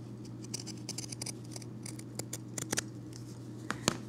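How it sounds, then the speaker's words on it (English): Pinking shears snip through excess quilt fabric around an appliqué in a series of sharp, irregular cuts, close and fairly quiet over a steady low hum, with no talking. "I'm just going to trim away a lot of excess bulk."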